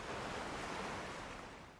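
Ocean waves washing on a sea shore, a steady broad rush of surf up close that eases slightly toward the end, with no voices.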